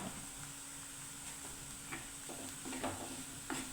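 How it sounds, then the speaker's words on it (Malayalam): Chili powder and turmeric powder fry in a pan with a faint, steady sizzle. Soft scraping and tapping of a spoon stirring the spices recur throughout. "പൊടികൾ പച്ചമണം മാറുന്ന വരെ ഒന്ന് മൂപ്പിക്കാം"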